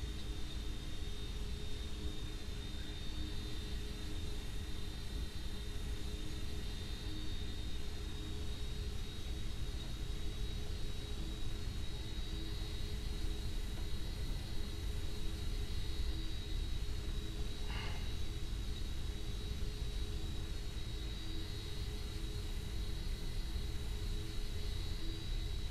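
Steady jet engine roar of an airliner landing in the Roblox flight game Aeronautica, a continuous loud broadband rumble with a high tonal whine holding throughout and no talk.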